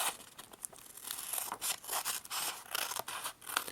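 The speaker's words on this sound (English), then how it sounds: "we're going to take out a scissors or whatever your favorite cutting tool is" Scissors snipping through paper at close range, a run of crisp cuts with rustling and crinkling between them, no voices.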